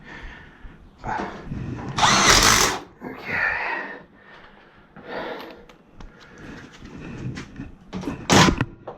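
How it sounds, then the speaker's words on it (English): Bursts of a power drill whining in short, uneven runs as it drills through metal for a heating system flue pipe, with pauses and handling clatter between, close by. "gotta still drill through the inside"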